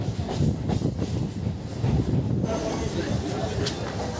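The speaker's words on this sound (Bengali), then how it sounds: "ট্রেন এখন লক্ষ্মীকান্তপুর স্টেশনে ঢুকছে।" A train rumbles and clatters along the rails into Lakshmikantapur station, rolling steadily with low, heavy noise and occasional faint squeals, as a voice talks underneath.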